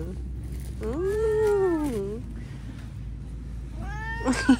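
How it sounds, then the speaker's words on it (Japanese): A cat at a Hokkaido hot spring inn gives a long, drawn-out meow close by, followed by a shorter meow near the end against a low background hum. "5匹の猫がいるんですよ。"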